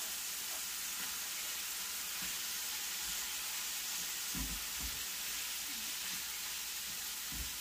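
Hamburger meat frying with chopped peppers and a small onion in a pan, a steady soft sizzle with a few low clatters of stirring, heard alone at moderate level.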